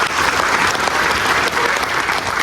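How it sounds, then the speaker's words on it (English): Dense, loud applause fills a community meeting room, an even wash of many hands clapping without a break for a couple of seconds. "Let's give him a big round of applause"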